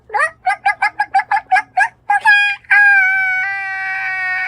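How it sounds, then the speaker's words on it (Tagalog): A large turkey-like bird at San Diego Zoo gives a rapid series of harsh, clucking calls, then breaks into a long, loud, drawn-out crowing cry, close by. "At ito naman ang ibon na parang turkey."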